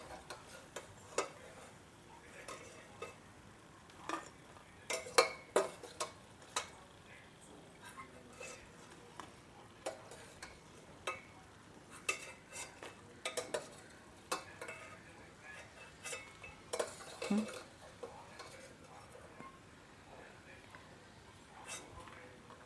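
Crispy fried wheat chips rattle and clink in a pot or plate, sparse irregular light clicks and taps spread over the whole stretch, faint and near, with a person talking intermittently.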